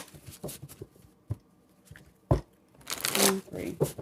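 A tarot deck is shuffled by hand in three separate bursts of riffling and flicking. The quiet, close card patter is interspersed with short pauses and soft handling noises.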